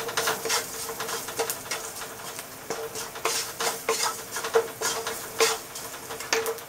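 Kale and garlic being roasted over very high heat in a hot pan, stirred with repeated scraping, clinking strokes over a soft sizzle, close and steady without any talking.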